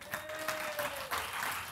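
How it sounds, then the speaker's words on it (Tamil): A church congregation claps during a sermon, a brief burst of crowd applause at moderate loudness with a faint tonal hum running beneath it. "கைதட்டு"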